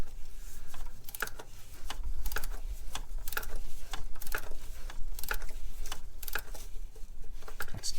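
A torque wrench being tightened to 25 newton meters during a van service, giving a series of sharp, fairly regular ticking clicks over steady low background hum, close and moderately loud.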